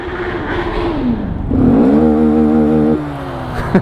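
A big sport bike revs hard on the road, heard from close by while riding a small motorcycle: a steady engine drone swells into a loud, climbing rev for about a second and a half, then settles back down.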